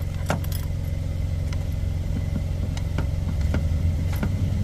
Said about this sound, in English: So we'll crank it up